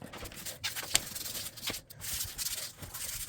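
A brush scrubs a bathroom sink in quick, uneven rubbing strokes, close and fairly quiet, with brief pauses between bursts.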